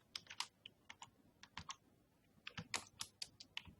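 Quick bursts of keystrokes on a computer keyboard, close and crisp, in uneven clusters with short pauses, while pseudocode for a password entry loop is being typed.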